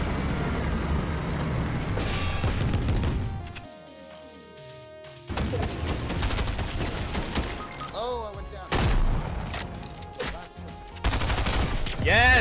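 Ranger rifle fire in Fortnite Zero Build mixed into busy game action: loud cracking bursts and crashes come in several dense clusters broken by a brief quieter gap, with a voice talking over parts of it.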